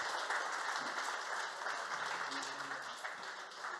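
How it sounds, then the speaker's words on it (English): An audience at a tech fireside chat on WebAssembly applauds the speakers, a dense patter of clapping that holds steady at moderate volume, with faint voices murmuring underneath. "Let's give our speakers a round of applause."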